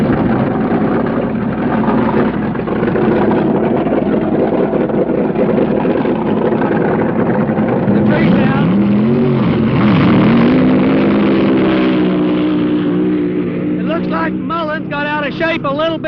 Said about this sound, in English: Pete Robinson is in the Factory Works car, the Ford-sponsored car, and this is like a David and Goliath match race.